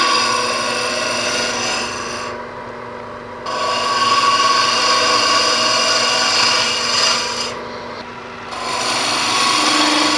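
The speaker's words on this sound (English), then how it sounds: "we're going to make shavings instead of sawdust with the carbide cutter" A carbide cutter carves into a tulip-shaped wood vessel on a lathe, giving a steady loud rasping, scraping whir that drops briefly twice when the tool lifts off before biting again.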